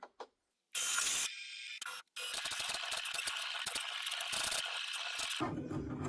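An electronic cutting machine fitted with a rotary blade runs close by, making loud whirring bursts broken by sharp mechanical clicks and brief pauses, with no talking.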